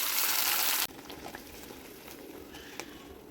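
Onion and tomato paste frying in oil in a kadai, a loud burst of sizzling that cuts off abruptly, then a softer steady frying hiss with occasional light stirring clicks, close up.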